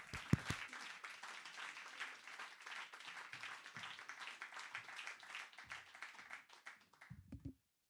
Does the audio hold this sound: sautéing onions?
no